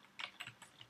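A few quick, soft keystrokes on a Mac computer keyboard, faint and close, tapped in a brief irregular run.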